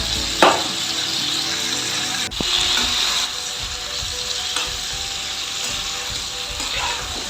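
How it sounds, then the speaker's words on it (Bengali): Green tomatoes frying in a pan for a mustard-based spicy dish, a loud continuous sizzle with a couple of sharp utensil knocks and scraping stirs. "দেখুন টমেটোগুলো নরমও হয়ে গেছে,"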